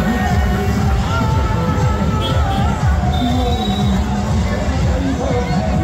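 A large nighttime crowd at the Aligarh Numaish fair, a dense, steady hubbub of many voices and footsteps with a constant hum, loud and close all around without a break.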